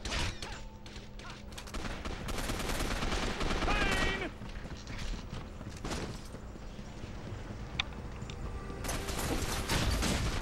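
Heavy gunfire in the PS3 first-person shooter Gotham City Impostors, with dense, overlapping bursts of shots and explosions that keep cracking loudly and almost without pause throughout.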